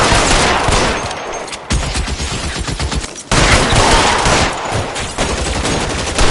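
Heavy gunfire in the video game L.A. Noire comes as a dense, loud fusillade of rapid shots, close and continuous across the clip with brief dips between bursts.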